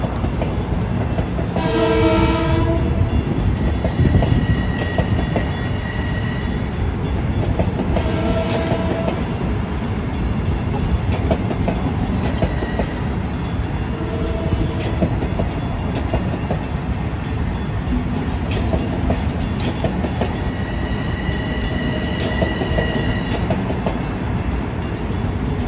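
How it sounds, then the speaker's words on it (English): A Long Island Rail Road MU commuter train, number 1969, sounds its horn repeatedly while departing Farmingdale for Penn Station, blowing for the crossings in several loud, separated blasts over steady rolling wheel and motor noise. "we get train 1969 departing town for Penn Station. Blowing for the crossings at Farmingdale."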